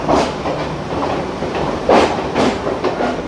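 A Kolkata Circular Railway train pulls out of Kolkata station with a loud, steady rumble and a clickety-clack of wheels over rail joints, heard close with no voices.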